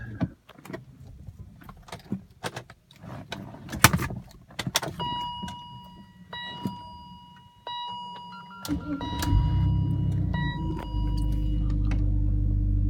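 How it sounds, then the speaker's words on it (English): BMW E46 with a power folding mirror fault: scattered clicks and small mechanical noises, electronic chime tones, a whirring mirror motor, then the engine cranks and settles into a steady low idle. "Now I'm gonna start the engine and we'll see if it's gonna fold."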